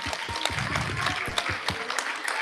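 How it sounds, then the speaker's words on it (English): Audience at a middle school eighth grade recognition ceremony claps steadily, a dense crackle of many hands with a few sharper individual claps, fairly close and unbroken for the whole stretch. "let's give them a big round of applause"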